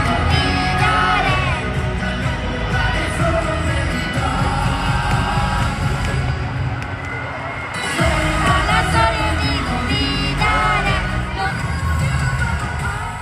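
A large arena crowd at Melodifestivalen 2023 cheers and sings along loudly and continuously. A voice singing along is mixed into the dense noise nearby.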